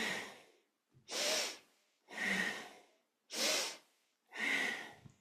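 Five strong, rhythmic breaths through the nose during a kundalini yoga spinal flex, alternating inhale and exhale at a steady pace, close and loud with brief pauses between each breath.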